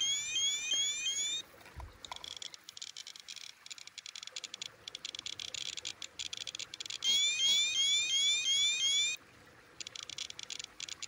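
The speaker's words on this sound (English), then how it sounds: "So that's the alarm going off." Electronic alarm of a RadiaCode scintillator radiation detector beeping in repeated rapid chirping bursts, loud and close, with a brief pause partway through before the bursts resume, no talking.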